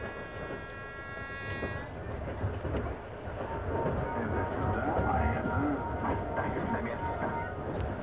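A Trans-Siberian Railway passenger train rolls along the tracks toward Siberia, with a steady rumbling clatter of wheels and carriages throughout, moderately loud with faint tonal sounds early on.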